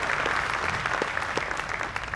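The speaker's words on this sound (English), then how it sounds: "Let's give him a round of applause." An audience at the Lancaster Archery Classic youth recurve finals claps in a brief burst of applause, with a moderate, steady patter of hands and no talk over it.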